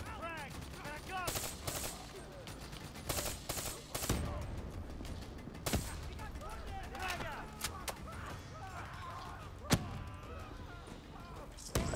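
Grenade blasts and rapid automatic gunfire erupt in a Call of Duty Black Ops 3 campaign battle, sharp bursts and a few loud thumps over a busy game soundscape, with someone talking excitedly throughout.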